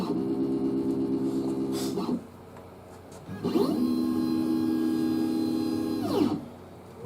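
Shapeoko CNC router initializing: steady motor whine with harmonic tones runs about two seconds, a short pause, then a second longer whining stepper movement with rising and falling sweeps at the start and end, close and fairly loud.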